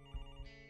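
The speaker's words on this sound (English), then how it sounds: "Oh, I have to answer the phone now." A telephone ringtone chimes in a quirky video game, a brief electronic tone with steady pitched harmonics and a couple of soft thumps, close and alone.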